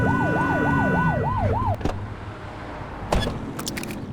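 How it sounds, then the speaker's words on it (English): A police car siren in the video game The Precinct wails in a fast, rising-and-falling yelp, loud and close, then cuts off, leaving engine rumble and a few sharp clunks. "Get behind them and flip the siren and make them pull over"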